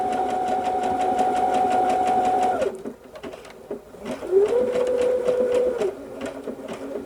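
A Brother Innov-is F400 sewing machine running a zigzag stitch whirs with a rapid mechanical clatter, pauses briefly, then restarts at a slightly different steady pitch, close and alone.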